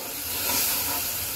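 Water splashed into a hot pan of frying fish and taro curry, a sharp broad hiss and sizzle swelling briefly, near and alone.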